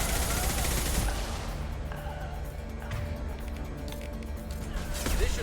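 Rapid gunfire bursts from a Mass Effect firefight, loud and dense across the whole span, mixed with impacts and game effects, with a voice speaking over the shooting.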